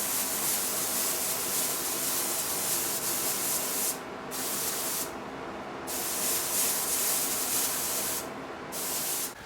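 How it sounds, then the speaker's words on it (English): A spray gun hisses in long, loud bursts close by, with several brief pauses between passes. "I have finished spraying my 2 coats of white primer sealer."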